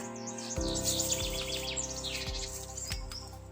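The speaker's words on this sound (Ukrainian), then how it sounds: "Пташки співають." Several birds sing and chirp continuously in quiet, windless forest air in April. A few low thumps and knocks sit underneath.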